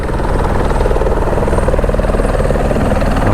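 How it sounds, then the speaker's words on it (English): A helicopter hovers at a heli-skiing resort in Alaska or Canada in a stiff breeze, its rotor giving a steady, loud, continuous chop throughout with no talk. "Helicopter is having quite a bit of a tough time hovering there by the looks of it."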